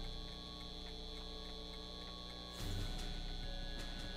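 A guitar amp in the Back to the Future game gives off a steady electrical hum with faint ticking on top, growing slightly louder and fuller partway through.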